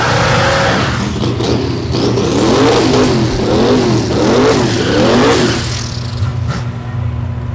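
A Pontiac GTO drag car on small tires revs hard at a drag strip, its engine rising and falling in repeated surges before settling into a lower idle, loud and close.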